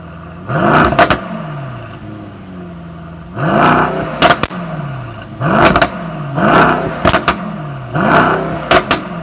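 A 2020 Mercedes-AMG E63 S Wagon sits idling, then its engine is revved hard in about five short, loud bursts close by, each one snarling up and dropping back to a low idle between them.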